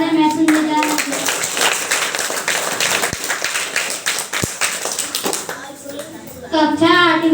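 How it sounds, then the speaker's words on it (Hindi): A crowd claps and applauds steadily for several seconds, with voices heard at the start and end. "और तालियां ऐसी बजे कि महफिल में जान आ जाए"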